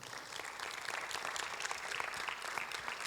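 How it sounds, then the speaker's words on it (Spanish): A church congregation applauds during a sermon, a dense, steady wash of many hands clapping, fairly distant and soft, with no voices over it. "dale un aplauso al Señor"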